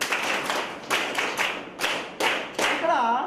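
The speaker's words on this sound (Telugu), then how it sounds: "క్లాప్స్ అండి" A group of participants clapping during a tower-building business game session, in short bursts of brisk hand claps that stop and restart about every half second, close and fairly loud.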